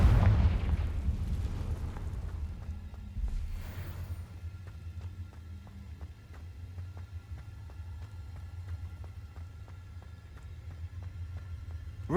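A loud, close blast from the Confringo fire spell in Hogwarts Legacy opens with a deep booming burst, then rumbles away into a low, steady background drone.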